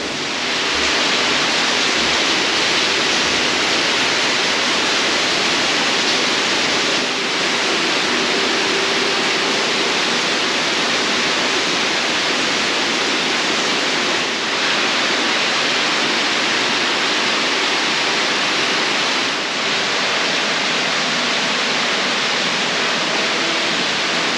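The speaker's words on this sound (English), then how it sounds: "Even on the driest days, weeks, even months, it still flows with water" Water pouring steadily down the Shower Bath formation inside Ingleborough Cave, a constant loud broadband rush like a small waterfall echoing in the cave, with no voices over it.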